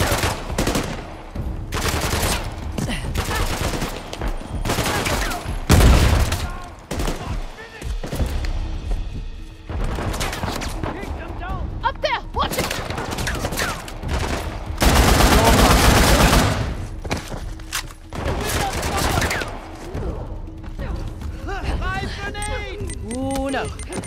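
Heavy gunfire in the action video game Uncharted 4: The Lost Legacy, with dense bursts of automatic shooting and single shots running nearly nonstop alongside game noise, while characters talk over the fighting.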